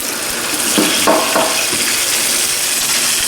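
Onions sizzling and frying in a pan on the stove, a steady loud crackle with a few brief stirring scrapes near the start, heard alone without talk.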